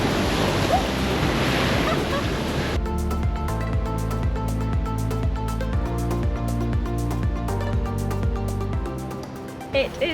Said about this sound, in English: There's some really big waves here.